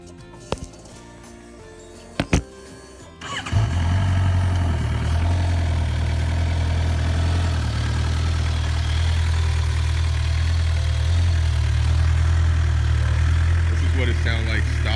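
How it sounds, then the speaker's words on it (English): A stock-exhaust 2019 Suzuki GSX-R 750 settles into a steady, deep idle after a few clicks and a brief start-up, holding loud and even close to the bike. "This is what it sounds like stock."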